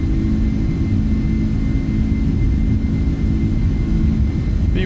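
A Boeing 747 in a flight simulator game makes a steady, loud jet roar during its takeoff roll, with a deep rumble and a constant engine whine and no breaks.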